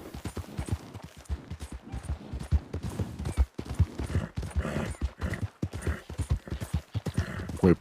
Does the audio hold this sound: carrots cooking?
no